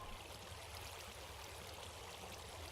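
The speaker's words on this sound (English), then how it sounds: "you can hear the water going away." Water flows away steadily in Minecraft, a soft continuous rushing stream with trickling texture, faint and unbroken, heard alone without talk.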